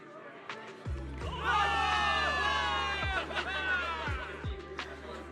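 A crowd of soldiers in the video game Zenless Zone Zero cheers and shouts together in a sustained roar, with deep booming thuds underneath and some overlapping voices.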